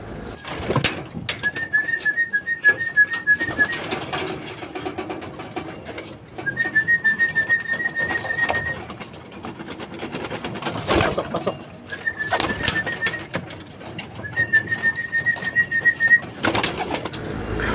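Racing pigeons coo at their loft during a training flight, soft throaty calls repeating in bursts and mixed with nearby wing flaps, thumps and shuffling, while a clear whistled tone comes and goes several times.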